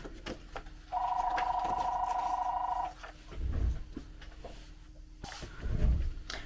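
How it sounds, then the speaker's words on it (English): A telephone rings once indoors, a steady electronic tone lasting about two seconds, followed by soft handling thumps and shuffling noises nearby. "every time I sit down to do a video, the phone rings"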